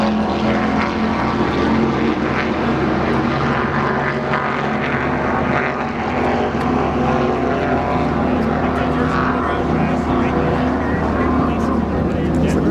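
A Porsche sports car laps a racetrack, heard as a loud, steady engine drone with wind rumble from inside or close by, while people talk throughout.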